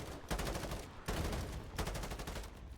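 Gunfire in the Call of Duty Modern Warfare 4 campaign, a video game, comes as dense bursts of rapid shots in three loud, booming volleys with short gaps, without clear talk.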